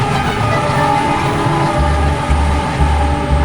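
The Darjeeling Himalayan Railway steam toy train rumbles along loudly and steadily at close range, with a continuous rolling drone; no distinct horn blast stands out.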